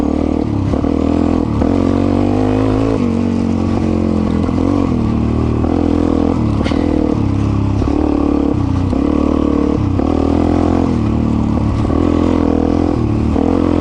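A Suzuki DRZ 400 E or Honda CRF450X dirt bike on Kenda K270 tires roars loud and close throughout, its engine revving and dipping in rhythmic surges as the rider shifts gears, with one gear change missed.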